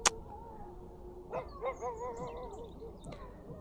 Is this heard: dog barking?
yes